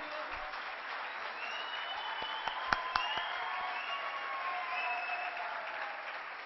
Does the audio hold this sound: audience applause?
yes